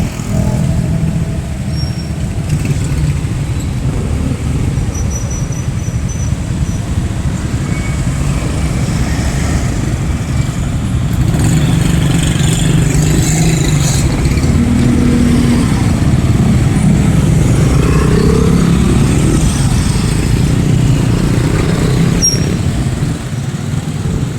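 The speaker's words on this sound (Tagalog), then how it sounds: "Traffic pa rin siya." Steady street traffic in Bangued in the late afternoon, a dense continuous rumble of cars and motorcycle engines passing nearby with no break, no talk over it.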